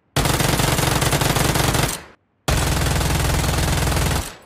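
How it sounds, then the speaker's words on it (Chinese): An UZI submachine gun in the mobile shooter Peace Elite fires two long, rapid full-auto bursts, each nearly two seconds of loud, dense rattling separated by a short silence, with a quick fading tail. "像冲锋枪这类射速越快的武器，品质提升更加明显，比如 UZI"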